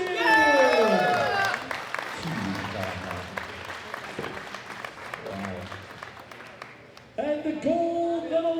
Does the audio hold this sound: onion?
no